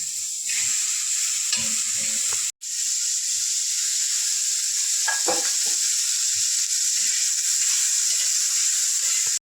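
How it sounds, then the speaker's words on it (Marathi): A tomato roasts in a hot pan for an egg thali, giving a continuous close sizzle with light scraping and stirring, cut briefly by one short silence; no one speaks. "हा जो आपला टोमॅटो पण आपण घेतलेला एक तो सुद्धा आपण सगळ्यावरती थोडासा भाजून घेऊया"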